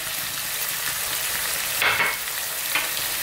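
Fresh tomatoes hitting a hot frying pan for a smoky eggplant dish, a steady loud sizzle with two brief surges of hissing as pieces land, no talking.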